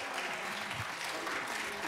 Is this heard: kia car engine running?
no